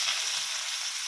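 Chopped onions hitting a hot oiled pan for taro curry, giving a loud, steady hiss of frying close up.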